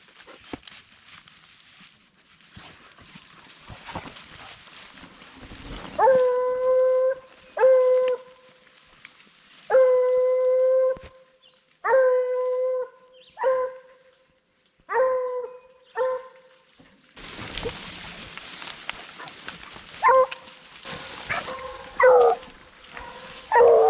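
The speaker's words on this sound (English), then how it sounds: "I'll see if the dogs can pick up the scent and just see what happens." Hunting hounds on a bear's scent near a river bay and bark in repeated loud bursts with drawn-out, wavering howls, separated by short pauses and rising into a denser chorus near the end.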